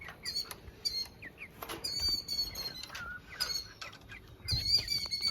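A bird calls repeatedly near a chicken coop in short, bright chirping bursts, fairly close, with soft rustling and pattering in the background.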